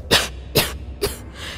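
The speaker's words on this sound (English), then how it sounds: "That cough doesn't sound too good at all." Three harsh coughs from a video game character, evenly spaced and close, each a sharp burst that fades quickly, with no other voices.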